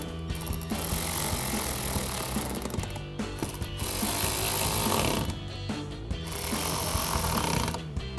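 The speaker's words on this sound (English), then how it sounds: "And now for these new screws, we're gonna switch to a T20 Torx socket to tighten those down." A T20 Torx socket tightening new screws on a 2014-2019 Corvette front end, heard as a steady mechanical whir and ratcheting that runs almost throughout, with brief lulls and no speech.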